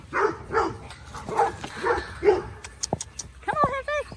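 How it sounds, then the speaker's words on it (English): A female dog lets out a few short, sharp yips and barks close by near the end, after a person's voice. "she's just gonna bark at you"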